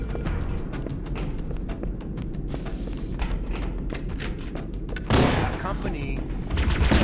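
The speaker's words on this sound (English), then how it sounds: "people are getting tossed around left and right by plasma explosions" Halo CE combat on the Pillar of Autumn on Legendary: rapid bursts of gunfire and plasma explosions rattle continuously, with a louder blast surge near the end and voices mixed in.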